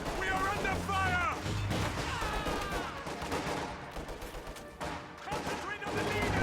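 Battle fire in Company of Heroes during a Reign 3 match: a jumble of gunshots and heavier blasts mixed with music and game voices, a busy, continuous din of combat.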